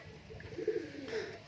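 Desi Giribaz pigeons cooing softly in a short burst of low, rounded coos, fairly faint against a quiet background, with no talk.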